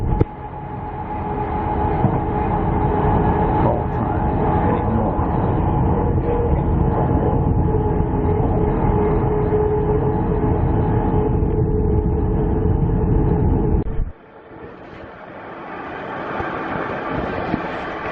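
Tilt Train passenger service on the Rockhampton to Gympie North line, a steady loud rumble and hum of the rolling carriage interior that drops away abruptly near the end, then a softer rushing swell returns.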